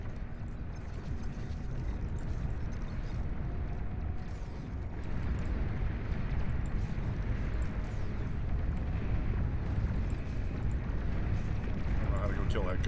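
Explosion from an enemy being detonated in a video game, a dense, continuous rumbling roar of blasts and debris filling the scene, with talk over it.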